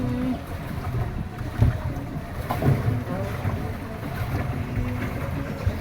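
A boat moves across Karna lake with a steady low engine drone, water wash and wind buffeting the microphone, a continuous close rumble with faint voices around it.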